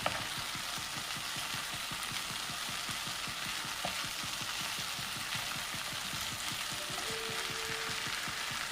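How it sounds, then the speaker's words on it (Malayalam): Fish pieces frying in oil in a pan, a steady close sizzle with a fast crackling pulse that holds evenly throughout, no talking. "ഇതുപോലെ മറിച്ചും പോയിട്ട് നന്നായിട്ട് മൂപ്പിച്ചെടുക്കണം"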